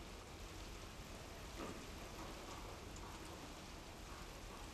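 Rain falls in a steady, even hiss, quiet and continuous with no pauses and no voices.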